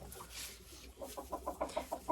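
Startled hen in a backyard flock, a short burst of quick, sharp clucks that grows into a rapid rhythmic series of cackles, close and fairly quiet.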